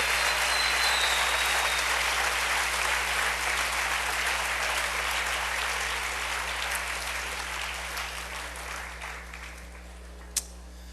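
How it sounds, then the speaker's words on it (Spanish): A church congregation claps for the Lord in a long, dense round of applause that slowly fades toward the end, where one sharp knock or tap stands out. "Mejor denle un aplauso al Señor"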